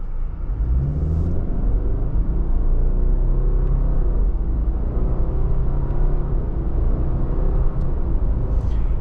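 Steady low engine rumble and road noise inside a 2025 Subaru Crosstrek Sport driven with manual paddle shifts, continuous and fairly loud with subtle shifts in drone.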